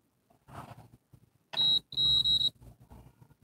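A digital multimeter's continuity beeper sounds while testing a mobile phone ringer: two loud, steady high-pitched beeps, a short one followed by a longer one, close up, with faint handling noise before and after.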